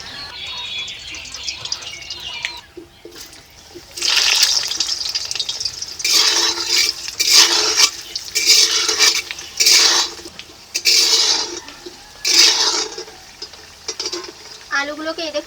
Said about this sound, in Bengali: কড়াইতে এখন সরিষার তেল দিয়ে দিচ্ছি।